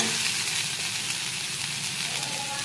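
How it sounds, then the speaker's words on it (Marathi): Leftover rice is stirred in a tempering pan, a dense steady hiss and soft sizzle close up throughout, with no speech. "आता भात टाकून द्यायचा। भाताला छान हलवून घ्यायचं।"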